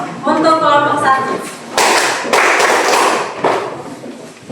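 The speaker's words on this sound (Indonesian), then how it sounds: "1 kali tepuk untuk kelompok 1." A classroom group claps together, a few sharp, loud bursts of hand claps in quick succession after a teacher's spoken call.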